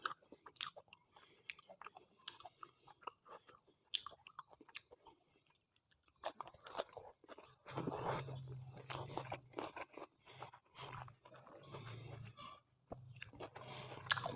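Close, soft chewing and crunching of a meal of rice with red ant egg salad, wet irregular bites bunched through the latter half, faint scattered clicks early on, no talking.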